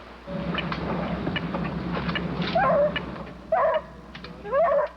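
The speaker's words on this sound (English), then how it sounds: "The dogs off in the distance have the scent as well." Hunting dogs tracking a Florida panther bay and yip in the distance, a few short, high, wavering cries rising over a low rumbling background.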